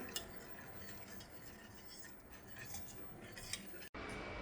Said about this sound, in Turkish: ocağın altını açıyorum ve koyulaşana kadar çırpmaya devam ediyorum